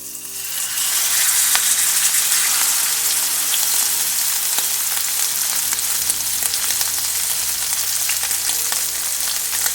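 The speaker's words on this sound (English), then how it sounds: "I'm going to let you get up close so you can hear that sizzle" Ribeye steak sizzles loudly and steadily in a hot pan, a close, continuous crackling hiss with scattered pops throughout.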